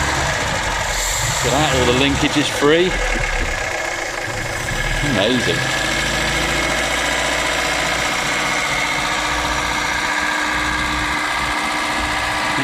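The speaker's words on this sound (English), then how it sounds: "Give it a quick rev." A 1971 Volvo 145 engine, revived after sitting for over ten years, runs at a steady loud idle throughout, with a quick rev early on and someone talking over it.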